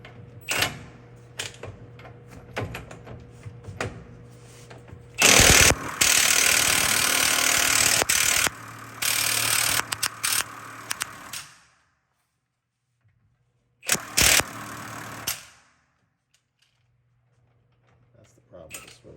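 An impact wrench fitted with a 1 3/16 swivel-head socket hammers at a seized brake caliper bolt on a Prevost bus, loud rattling bursts separated by pauses and mechanical clatter, with brief voices nearby.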